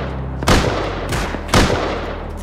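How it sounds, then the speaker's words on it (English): Two heavy explosions from a rocket raid in the survival game Rust, each a sharp loud blast about a second apart with a rumbling tail over a low engine-like drone. "There's the rocket raid!"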